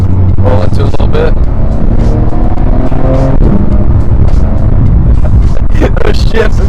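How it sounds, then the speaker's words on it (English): A Porsche GT3 fitted with a Fabspeed Supercup exhaust downshifting on a track, heard from inside the car as loud engine roar with sharp blips and crackles rising over steady wind and road rumble. "Those downshifts are so crisp."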